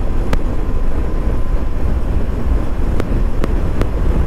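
Steady roar of wind buffeting the microphone on a motorcycle cruising along a road toward Rampur on a trip to Nainital, loud and continuous, with a few sharp clicks breaking through.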